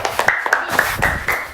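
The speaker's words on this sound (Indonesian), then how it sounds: "Tepuk tangan dulu buat Rara" A classroom group claps for a student after a presentation in a teacher-training session: short, sharp, fairly loud hand claps in a quick, slightly uneven rhythm, heard alone and close.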